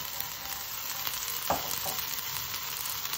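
Squid frying with chili and spring onion in a pan, a steady close sizzle with a brief scrape of stirring midway, no voices.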